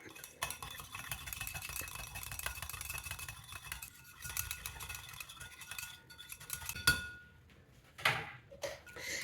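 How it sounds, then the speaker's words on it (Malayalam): A spoon stirs curd in a bowl, giving soft, repeated scraping and clinking strokes at close range, with a few louder taps of metal against the bowl near the end. "മൂന്ന് ഒരു നാല് ടേബിൾ സ്പൂൺ തൈരെടുത്തിട്ടുണ്ട് ഇതൊന്ന് മിക്സ് ചെയ്തെടുക്കാം"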